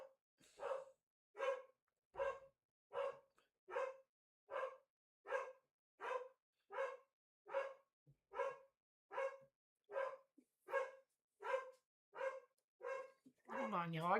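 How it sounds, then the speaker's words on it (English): A dog barks in a steady, evenly spaced run of about twenty single barks, faint and distant, with no other voices. "I gotta go see what the dog is barking at."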